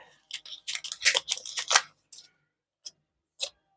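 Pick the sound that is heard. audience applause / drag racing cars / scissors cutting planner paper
scissors cutting planner paper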